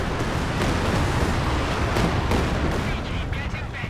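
Artillery barrage in Company of Heroes 2, a dense, continuous rumble of overlapping blasts and booms held at steady loudness, with sharper cracks scattered through it.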